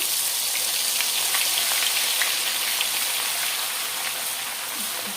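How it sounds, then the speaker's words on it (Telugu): Ginger-garlic-chili paste frying in groundnut oil gives a loud, continuous crackling sizzle that stays steady throughout, with no talk over it. "బాగా వేగాలండి చూసారా శనగ నూనె కాబట్టి ఇలా పొంగే గుణం ఉంటుందన్నమాట"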